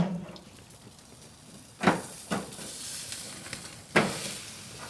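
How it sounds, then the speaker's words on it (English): Marinated goat steak sizzles over a charcoal grill, fat flaring in the flames, with a soft steady hiss broken by a few sharper crackling bursts and pops. "The reason as to why this steak is kind of getting a lot of flames is because of the fat."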